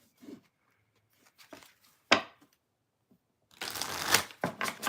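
Tarot cards are shuffled in short bursts: a few soft riffles, a sharp snap, then a longer rapid papery riffle near the end, close and clear in a quiet room.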